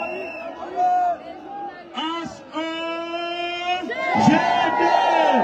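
Rally crowd at a political campaign meeting in Franceville, Gabon, cheering and shouting, with loud individual whoops and yells rising over a busy background of chatter and noise that swells toward the end.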